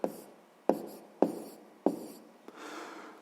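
Writing down a math answer by hand, four or five distinct taps and scratches of a pen on paper at a steady rhythm, close and quiet with no voices.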